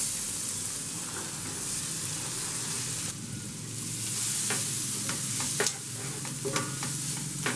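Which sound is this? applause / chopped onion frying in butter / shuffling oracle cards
chopped onion frying in butter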